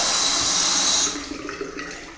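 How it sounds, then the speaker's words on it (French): A long-spouted cascade faucet in a renovated small bathroom pours water into a stone basin in a loud, rushing stream that drops to a softer trickle partway through. "La robinetterie, elle, est en effet cascade."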